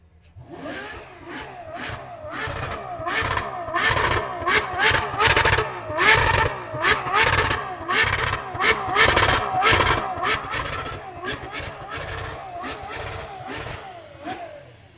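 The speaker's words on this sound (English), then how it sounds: "add an exhaust to it, and she sounds pretty good too" A loud sports car with an aftermarket exhaust revs repeatedly in sharp bursts at a motorsports park, its throaty exhaust rising and falling close by, with voices faintly underneath.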